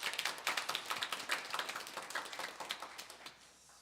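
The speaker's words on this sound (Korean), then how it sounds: "우리 박수 한번 또 격려하겠습니다" A church congregation claps for the choir conductor during a Sunday service: soft, rapid, steady clapping from a group that thins and fades out toward the end.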